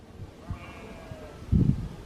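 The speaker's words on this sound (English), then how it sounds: "Those are sheep." Sheep bleat faintly on a mountain slope along the Tour du Mont Blanc, a thin wavering cry drifting in from a distance, then a louder burst of low rumbling noise near the end.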